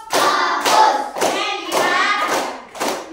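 A classroom group claps in a rhythmic chant, about five loud, close bursts of clapping separated by brief pauses, with voices chanting along in time.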